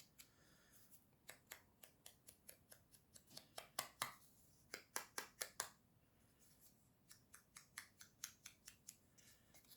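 Scissors cut paper for a Christmas card in quick rhythmic snips, dozens of sharp close cuts in steady runs with short pauses between, quiet overall.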